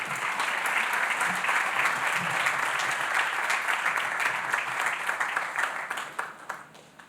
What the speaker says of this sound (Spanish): Vamos a recibir con un fuerte y cariñoso aplauso a Richard Elmore